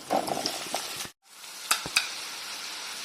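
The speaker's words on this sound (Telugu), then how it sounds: "జీలకర్ర, వేగిందండి. గుమ్మడికాయ ముక్కలు వేస్తున్నా." Pumpkin pieces go into a pan of frying cumin, mustard seeds and dried red chillies, producing a loud hissing sizzle that cuts out briefly and then resumes with a couple of sharp clatters.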